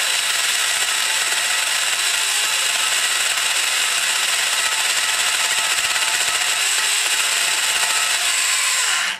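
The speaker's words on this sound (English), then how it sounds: "notice how you hear the bumps when it's sitting there grinding" Continuous grinding of a valve seat in a cast cylinder head during a valve job with port enlargement, a loud steady whirring rasp with fine rapid bumping and a bright metallic edge, ending abruptly.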